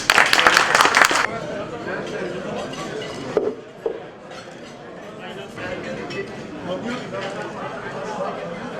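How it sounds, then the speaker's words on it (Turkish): Applause rises from guests at a traditional iftar gathering of a moving companies' association in Istanbul, a loud burst of clapping for about a second before fading into room chatter, clinking dishes and talk. "Ben onlara da güzel bir alkış alabilir miyim?"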